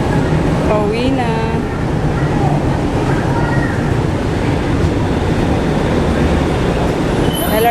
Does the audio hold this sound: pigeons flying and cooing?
no